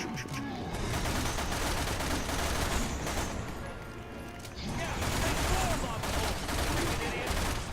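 Resident Evil 6 co-op gunfire comes as dense, rapid volleys of shots that crackle almost without pause, dip briefly, then surge again, with game voices mixed underneath.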